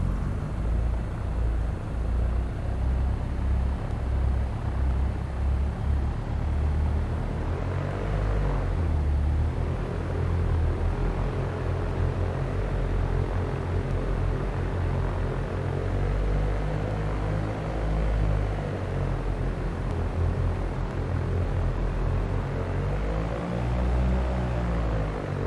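A light aircraft taxiing in X-Plane 11 on a flight from York to Fenland Airfield, a steady close engine drone and propeller hum with slowly shifting pitch as the throttle changes, continuous and without talk.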